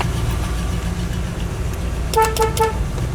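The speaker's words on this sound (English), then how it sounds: "I like that horn." Horn of a 1967 Pontiac sounds in three short, loud toots in quick succession, close by, over a steady background rumble, with no talking.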